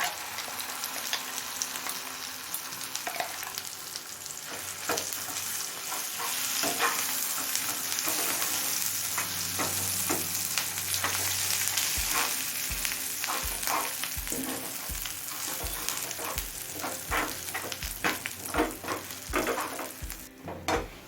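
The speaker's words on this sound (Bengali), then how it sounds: "পেঁয়াজটা লাল করে ভেজে নিয়েছি এবার এই ভর্তাটা দিয়ে দেবো" Mashed mixed-vegetable bharta sizzles in a pan with onions fried until reddish, a steady frying hiss under repeated scraping and stirring strokes that turn rhythmic in the second half.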